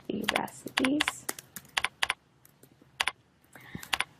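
Keys clatter on a computer keyboard while a short search phrase about healthy recipes is typed, coming as quick bursts and single taps close to the mic, separated by brief pauses.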